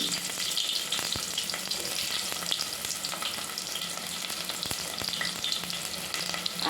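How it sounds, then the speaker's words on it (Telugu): Green chillies fry in hot oil with a continuous close, loud sizzle and crackle, broken by scattered sharp pops and occasional stirring clicks throughout. "ఆయిల్ వేడెక్కింది కదా ఇందులో పచ్చిమిర్చి"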